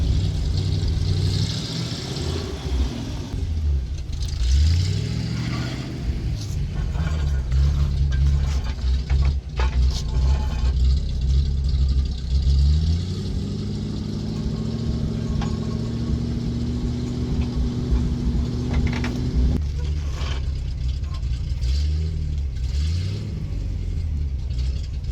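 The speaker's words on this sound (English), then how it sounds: "GMC 6000 Sierra Grande" A GMC 6000 Sierra Grande truck engine rumbles at idle, then swells through several revs whose pitch climbs and falls, loud and close, with the low drone continuing steadily between pulls.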